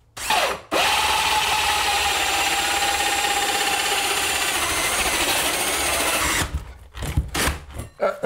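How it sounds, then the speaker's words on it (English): A power drill bores a hole into a ceiling for a retrofit recessed light, running as one loud, steady whine for about six seconds before stopping and giving way to some clattering handling noise. "we're going to start drilling"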